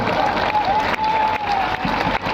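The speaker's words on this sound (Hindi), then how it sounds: "ताली ना बाजो, ताली ना बाजो" Crowd clapping at a political rally in Kargahar, Bihar, a steady loud wash of many hands filling the clip, with a thin held tone running through it.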